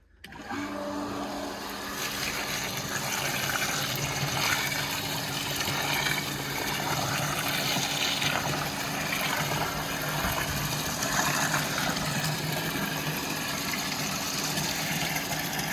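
A small water pump runs steadily, pushing liquid fertilizer mix through a hose in a vegetable garden, giving a constant motor hum with a rushing water layer over roughly fifteen seconds, no talking.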